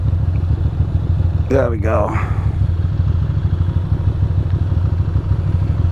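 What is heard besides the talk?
Ducati Monster 620 motorcycle engine running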